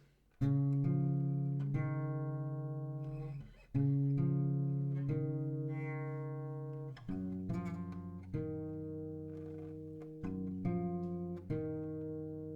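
An acoustic guitar plays a passage of a song, a few sustained strummed chords and picked notes ringing out and decaying, close and alone.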